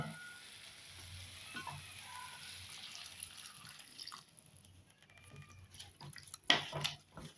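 A sundakkai (turkey berry) mixture is sautéed in a pan, with a soft, crackling sizzle and faint scraping stirs close by, a sharper clink near the end.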